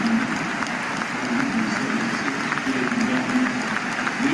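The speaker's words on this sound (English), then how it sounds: "Just listen to sort of the round of applause he got when he came off late for Jayden Danns." Anfield crowd at a Liverpool match applauding a 16-year-old youngster, Jayden Danns, as he is substituted late on; a sustained, dense round of clapping from a large stadium crowd, steady throughout with no break.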